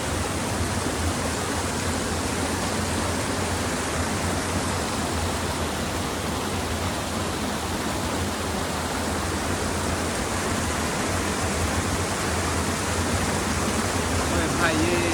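River water rushes beside an iron bridge in a steady, loud, unbroken hiss of flowing current, a dense uniform wash without pause, and a voice speaks faintly within it.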